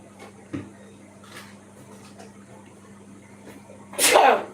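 A single sharp sneeze, triggered by hot pepper during cooking, bursts out near the end, loud and close, after a stretch of quiet room tone with a steady low hum.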